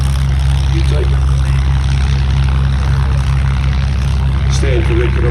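A Spitfire propeller warbird passes at the Warbirds Over Wanaka airshow, its engine a steady, loud low drone that holds throughout under a commentator's voice and crowd noise.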